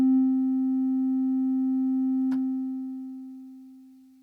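A synthesizer plays a single steady, pure-sounding tone with a faint overtone, held at an even level with a brief tick in the middle, then slowly fading out.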